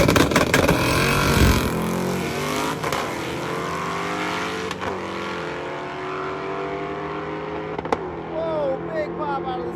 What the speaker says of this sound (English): Whoa, big pop out of the stick shift car.